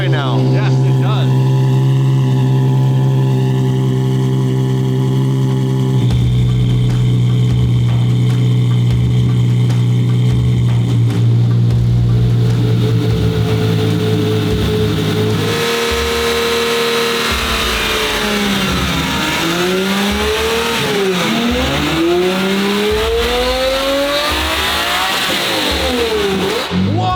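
A Ferrari 550 with a straight-piped exhaust idles with a deep, steady burble, then is revved repeatedly in loud rising and falling sweeps; people talk and exclaim nearby throughout.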